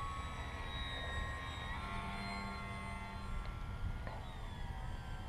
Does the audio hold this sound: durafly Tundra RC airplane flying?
yes